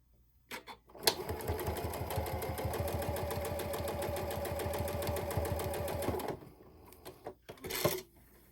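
A sewing machine stitches binding onto a mini quilt in a steady, fast mechanical whirr lasting about five seconds, bracketed by a few soft handling clicks and bumps, close and fairly quiet.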